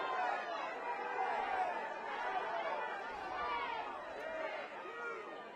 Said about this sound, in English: Crowd incensed.